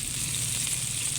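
Potatoes fry in a pan with a steady, close sizzle that holds evenly for the whole brief moment.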